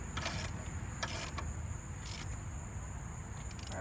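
Wrench work tightening a remounted tire on a Jeep Rubicon comes as short mechanical whirring bursts separated by pauses, close and moderately loud against a low background hum, with no talking.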